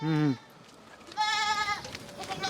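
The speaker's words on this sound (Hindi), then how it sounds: "और आप ये वाली बकरी भी देखिए" A goat on a goat farm bleats twice, close and loud: a short wavering call first, then a longer, higher-pitched quavering one after a brief pause, over faint background noise.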